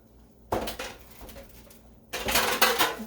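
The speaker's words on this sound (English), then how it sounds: "Put my roasting pan." A metal roasting pan with a removable rack is set down and shifted on a kitchen counter, giving two bursts of clanking and rattling metal, close and fairly loud, with no talking.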